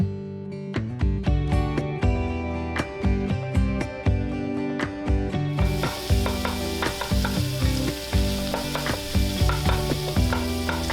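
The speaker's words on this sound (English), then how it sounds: "we left a little bit of the oil behind, and we're gonna add this Italian sausage" Hot Italian sausage frying in leftover bacon oil in a pan, with a steady sizzle and repeated pulses of stirring throughout. The sizzle grows brighter and louder about halfway through.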